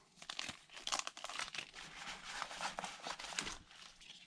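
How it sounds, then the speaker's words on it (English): Thick sheet of tin foil being handled and crinkled close by, giving a steady, continuous rustle of sharp crackles for the whole few seconds, fairly quiet and with no talking. "So this is really thick foil, and then this is sort of regular thickness tin foil."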